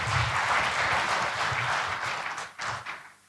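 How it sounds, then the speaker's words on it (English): A round of applause fills a conference hall welcoming a speaker at a Nigeria Customs Service public relations session, steady and dense before thinning out and fading near the end. "Please let's welcome him with a round of applause."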